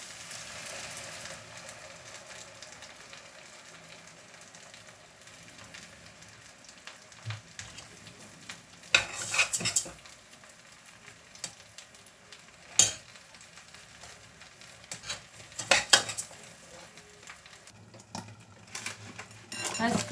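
Fish and vegetables with crème fraîche cooking in a pan beside basmati rice, a soft steady sizzle under quiet talk, with occasional louder clinks and scrapes of utensils against the pan.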